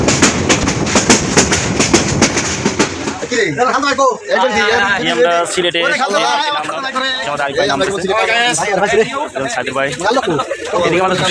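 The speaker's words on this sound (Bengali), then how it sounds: "এখানে ট্রেনটা অনেক স্লো যাচ্ছে" A train moving slowly on rails near Sylhet, a steady rumble and rattle under a person talking, with clacking dominant early before the voice takes over.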